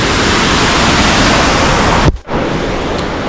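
Steady roaring rush of a waterfall seen on a hike, loud and continuous broadband noise with a brief dropout near the end.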